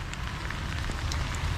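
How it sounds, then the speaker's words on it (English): Heavy rain drums steadily on surfaces during a river trip along Sydney's Cooks River, a dense, continuous patter with scattered sharper drops close by, with no voices. "especially now that it's raining heavily over here"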